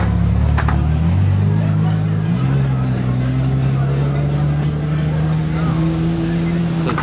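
A BMW M2 driving by outdoors in Monaco, its engine note rising and shifting in pitch as it passes close amid street noise, with a person talking over it.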